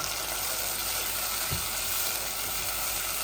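Crushed garlic hits hot oil in a pan alongside onions, a steady loud sizzle with one brief clatter of it dropping in, no voices.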